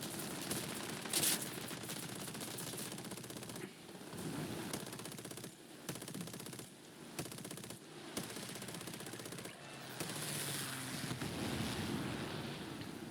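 Machine gun fire from an aircraft in a biplane combat video game, sounding as sustained rattling bursts under steady wind and engine roar, with brief loud spikes and no talk.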